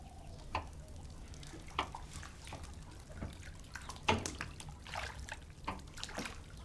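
Hot water poured from a vessel, a soft intermittent trickle and splash with small drips, fairly faint and close, in a quiet indoor scene.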